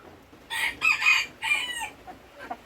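A rooster in a flock of chickens crows loudly and close by, its call broken into a few ragged bursts over steady farmyard background noise, with no talking.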